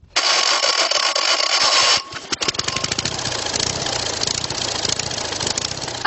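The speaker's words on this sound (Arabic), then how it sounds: "استخدم محرك سيارة فيات صغيرة صنعت في بولندا بموجب ترخيص من شركة صناعة السيارات الإيطالية" Wooden handmade motorcycle powered by the engine of a small Polish-built licensed Fiat car, running loudly with a steady idling chug and rapid firing pulses, a brief burst of high hiss at the start.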